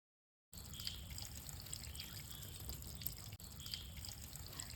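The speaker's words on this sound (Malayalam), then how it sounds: "ഇനി രണ്ടിലും ഒരേപോലെ വെള്ളം ഒഴിച്ചു നോക്കാം" Water is poured over coated car window glass, giving a steady close splashing trickle that runs unbroken for a few seconds after a short silence.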